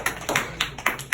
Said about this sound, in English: I'd like to ask everyone to give Tomas a huge round of applause.